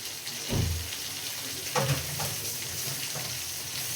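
Hot oil sizzling steadily in a pan, ready for a parshe fish bhuna after the fish has been fried, with a couple of soft thuds and stirs breaking through the constant crackle.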